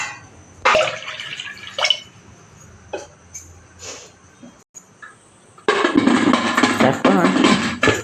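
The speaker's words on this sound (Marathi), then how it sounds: "पाणी थोडं मी जास्तच घालणार आहे" Water poured into a pot for puran, splashing and trickling in uneven bursts, then a loud steady pour over the last couple of seconds; no voices.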